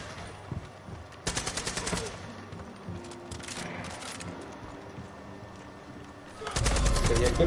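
Bursts of AKMS assault rifle fire in Far Cry 5 during an outpost fight, rapid automatic volleys near 1–2 s, around 3.5 s and a loud sustained burst from 6.5 s, over constant game ambience.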